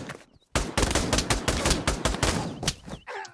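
Rapid gunfire from sniper rifles, shotguns and other weapons in the VR shooter Pavlov VR, a dense, loud volley of overlapping shots and bursts running almost continuously after a brief quiet start, with no talking.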